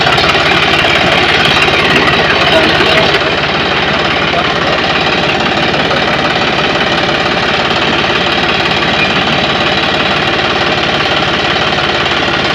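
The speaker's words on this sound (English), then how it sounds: "That was a very exhilarating tractor ride on the farm" A John Deere tractor engine runs on a farm at Mangat Ecofarm in India, with a loud, steady, rapid knocking diesel rumble continuing nonstop close to the microphone.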